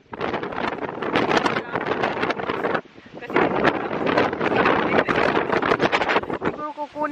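Strong gusty wind buffets the microphone outdoors on a blustery event day, a loud continuous roar that briefly drops before surging again, with faint voices underneath.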